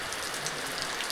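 Steady monsoon rain falls in rural Konkan, a dense, even hiss of drops on surfaces with no pauses and no voices.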